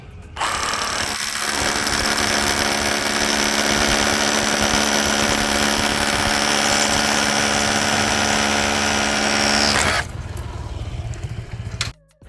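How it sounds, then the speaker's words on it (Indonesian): A Bosch GBH187Li cordless brushless rotary hammer in hammer-drill mode bores a concrete block with a 12 mm SDS Plus masonry bit, one loud, steady, rattling drilling run of about nine seconds that stops abruptly, followed by quieter handling noise. "Sekarang kita akan mengebor konblok beton menggunakan mata bor masonry SDS Plus ya."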